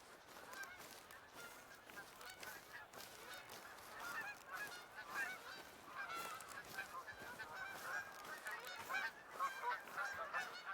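Geese honk repeatedly in a wild Yukon setting in the hunting game The Hunter: Call of the Wild, the calls layered and faint at a distance, overlapping in an irregular chorus with no talking.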